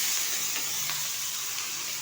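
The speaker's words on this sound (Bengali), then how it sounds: "এখন এই তেলেই দিয়ে দেব খুব সামান্য পরিমাণে একটু হলুদ গুঁড়ো, দিয়ে দিচ্ছি খুব সামান্য পরিমাণে লবণ, দিয়ে দেব ধুয়ে রাখা চুনো মাছ" Small fish with a little turmeric and salt hitting hot oil, a continuous soft hiss and sizzle that stays even and close throughout, with no voices.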